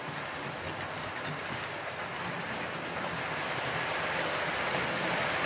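A Hornby A4 Sparrow Hawk model locomotive running with a lengthy train, a steady, dense whirring rumble that holds evenly throughout with no pauses.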